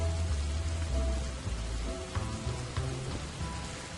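Rain weather effect in a Pokemon Sun & Moon video game battle, a steady hiss of falling rain with soft low rumbling beneath, continuous and fairly even throughout.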